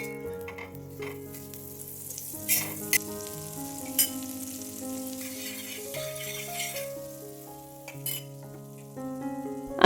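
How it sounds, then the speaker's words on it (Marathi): Oil or butter heats on a hot tawa griddle, giving a steady close sizzle with occasional light clinks over soft background music. "तवा गरम झाला की तव्यावरती तेल किंवा बटर घालायचं."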